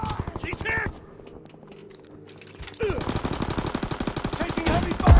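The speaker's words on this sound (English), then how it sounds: "Taking heavy fire!" Heavy machine-gun and rifle fire in the World War II shooter Call of Duty WW2 comes in rapid, loud bursts, drops to a quieter lull, then resumes as a dense, sustained barrage with a voice calling out over it.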